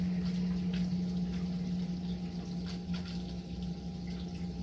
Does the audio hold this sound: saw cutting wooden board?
no